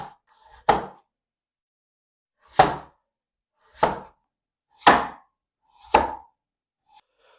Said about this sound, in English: So you've got a flat surface, put it down, and you just thinly slice it.